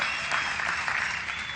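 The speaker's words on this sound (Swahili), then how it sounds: "Wapigiwe makofi." A crowd applauds members of the county assembly in Nyandarua, producing steady, dense clapping that stays loud and even throughout with no pauses.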